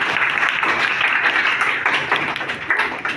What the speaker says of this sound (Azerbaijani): Alqışlayaq İlkini də